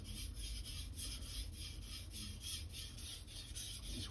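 Steady rasping strokes of an Aogami super steel knife drawn back and forth across a whetstone, a continuous close scraping at an even rhythm with no voices.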